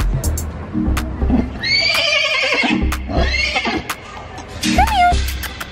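A young yearling horse at a county fair gives a loud, high whinny in the middle, then a shorter squeal near the end, with hoof clops, nearby voices and fairground noise around it.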